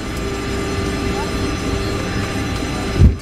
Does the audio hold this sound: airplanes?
yes